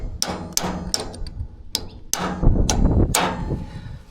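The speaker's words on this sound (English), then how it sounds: "Get a little punch, and you punch in these two tabs" A small punch is hammered against locking tabs in the grooves of a stub axle on a plant trailer, giving about eight sharp metallic taps in an uneven rhythm, close up and alone.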